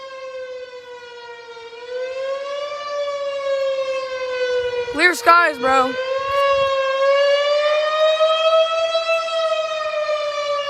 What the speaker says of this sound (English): This is the tornado sirens.